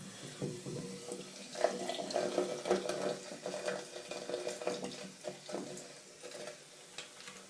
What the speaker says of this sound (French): c'est la réaction entre le vinaigre et le mélange sel-bicarbonate